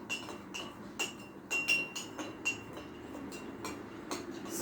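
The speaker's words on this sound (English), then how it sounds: "I'm going to stir it till everything on the salt dissolve." Spoon clinking against a glass while stirring lime juice with salt for a Jamaican colon-cleansing juice, a series of light, irregular chinks close by with no talk.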